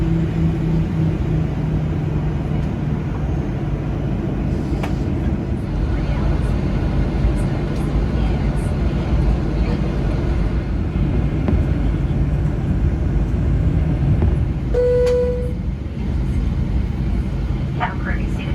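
A loud, steady airliner cabin roar with deep engine rumble fills the air aboard a Virgin Australia flight as it readies for takeoff, constant throughout with a brief chime near the end.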